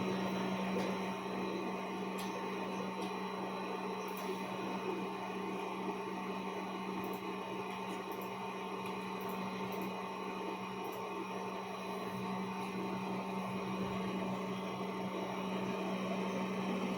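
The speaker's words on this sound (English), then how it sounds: "Now he will proceed to do the calibration on T2, and as usual it will heat up to 150 degrees and do the Nudge calibration." A four-toolhead 3D printer toolchanger running automatic nozzle offset calibration, its nozzle heated to 150 degrees, gives a steady mechanical hum and whir with faint intermittent ticks throughout.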